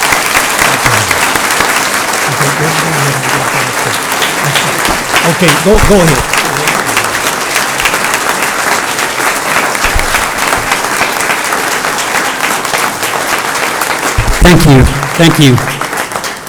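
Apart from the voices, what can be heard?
audience applause at board meeting honoring a member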